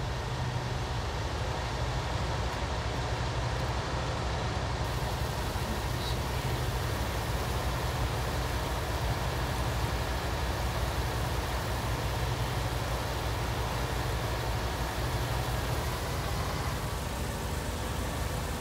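A tractor engine in Farming Simulator 19 drones steadily throughout, a loud, constant mechanical hum and rumble with no pauses and no talk.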